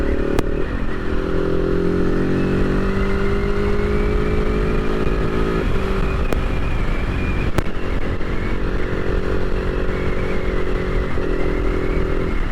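A KTM 690 SMC R single-cylinder motorcycle engine, 2024 model, runs steadily and loudly while being ridden with a quick shifter, its droning tone sliding down and back up as it changes through gears, with wind noise throughout.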